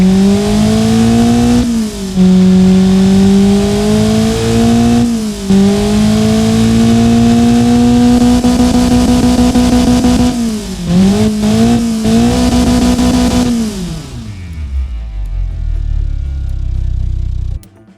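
A simulated Honda D16Z6 1.6-liter engine in the Automation game, revving loudly and repeatedly through rising and falling pitch sweeps, then cutting off and winding down near the end.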